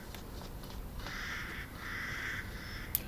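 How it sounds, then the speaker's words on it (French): Crows caw in Resident Evil Village video game, a few hoarse calls standing out faintly against a quiet ambient background. "Les corbeaux dans les jeux, c'est chiant."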